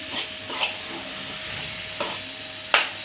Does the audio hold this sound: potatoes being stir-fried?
yes